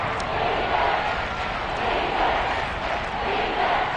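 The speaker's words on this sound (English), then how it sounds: "The crowd getting into it as we come up on a big 3rd down." Steady roar of a large football stadium crowd cheering before a big third down, a dense continuous wash of voices at even loudness throughout.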